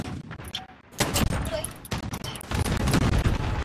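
Video game gunfire in Call of Duty Modern Warfare, with loud bursts of rapid shots and heavy volleys filling most of the stretch, a quieter lull near the start, and battle noise continuing throughout.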